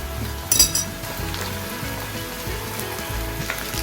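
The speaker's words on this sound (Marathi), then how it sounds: "आणि आता याच्यामध्ये अद्रक लसूणची पेस्ट टाकलेली आहे कांदा मस्त ब्राऊन झाला आहे" Onion browning in a pan with ginger-garlic paste added, a steady close sizzle of frying with a brief clink near the start and low stirring noises, no talk.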